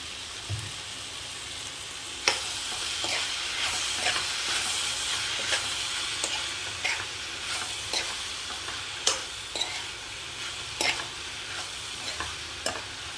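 Ivy gourd with grated coconut frying in coconut oil, a steady close sizzle and hiss with repeated sharp scrapes of a spoon stirring through the pan.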